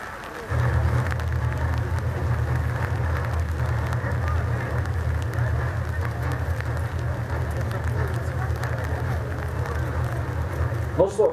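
Steady rain pours down at an outdoor historical festival with horses, a continuous hiss with a low rumbling undertone, unchanging for the whole stretch.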